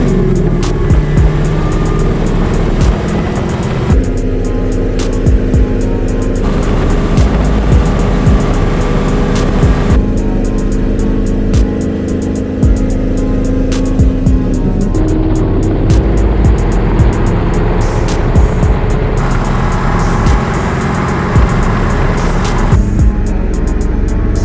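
A 5th-gen Chevrolet Camaro ZL1 is driving on the road, heard from inside as a constant loud rumble of engine and road noise with broad wind roar and small shifts in tone.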